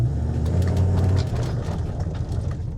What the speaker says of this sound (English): And we pull off without even a hint of wheel spin.